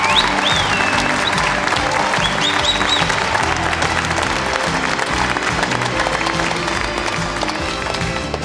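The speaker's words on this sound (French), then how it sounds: "un tonnerre d'applaudissements pour tous les participants" Loud, sustained applause from a cabaret audience for the performers of a superhero-themed show in 2024, dense continuous clapping filling the room with a few high whistles cutting through.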